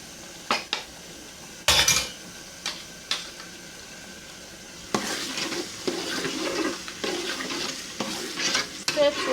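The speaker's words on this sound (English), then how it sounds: "We have to fry this tomato" Tomato and blended pepper fry together in a pot for vegetable stew, with a few clanks of a spoon on the pot before a louder, steady sizzle and stirring scrapes take over.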